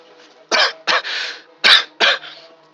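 A person ill with a worsening respiratory infection and struggling to breathe coughs four times in quick succession, harsh and close, with one short throat-clearing rasp between, and no talking.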